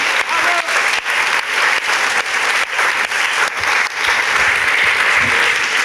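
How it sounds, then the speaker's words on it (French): An audience at a press-freedom talk with Erik Orsenna and Fabien Gay applauds loudly and steadily, a dense, close burst of clapping from a large crowd that holds throughout. "Il faut toujours applaudir fort les directeurs."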